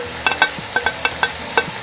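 Diced bell pepper tossed into a pan with onion and carrot sizzles, with a quick run of sharp clicks and scrapes from stirring over a low frying hiss, close and busy.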